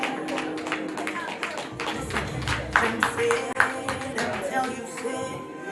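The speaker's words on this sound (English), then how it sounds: "We are clapping." Scattered hand claps from a small audience at a children's graduation ceremony, a loose patter of uneven claps running throughout beneath steady talking and cheering voices.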